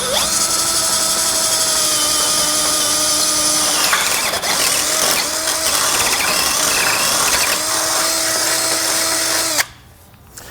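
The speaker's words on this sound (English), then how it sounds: "So once you get all the way through, you can kind of just move the drill bit around just to give yourself a little bit of wiggle room." A power drill runs steadily while boring a 1/2 inch hole through the frame of a 2018 Jeep JK Wrangler Unlimited. The loud, close, continuous high whine wavers as the bit is worked around, then cuts off abruptly near the end.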